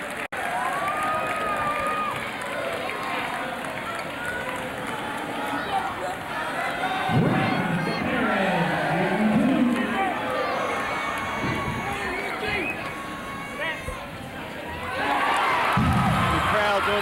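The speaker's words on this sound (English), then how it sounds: "The crowd is on their feet here at Hamer Gymnasium." Fans on their feet at Hamer Gymnasium cheer steadily during the final seconds of an NCAA regional basketball final, the roar swelling in bursts amid shoe squeaks and bouncing, with commentary running across it.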